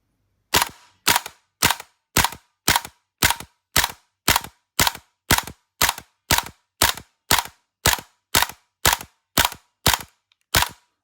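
A Krytac Kriss Vector gas blowback airsoft rifle fitted with a spring mod fires about twenty evenly spaced single shots, each a sharp loud crack with a quick mechanical snap of the cycling bolt, alone and close.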